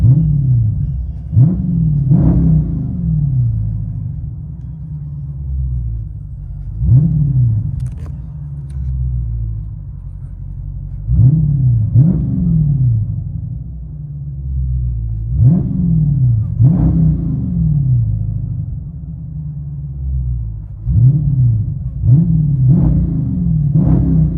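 Inside a Dodge Charger Scat Pack with a 6.4L HEMI V8 and AWE exhaust, deep booming revs swell and drop in repeated blips, a heavy low rumble filling the cabin between each burst.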